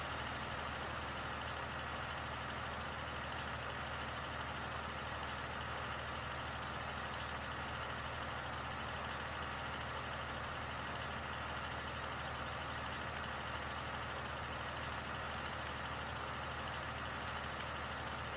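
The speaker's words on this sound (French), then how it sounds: "Vous voyez, c'est un bon tracteur en main de." A two-wheel-drive tractor engine runs steadily in Farming Simulator 15, a continuous low, droning rumble with an even hiss, holding constant for the whole stretch with no talk over it.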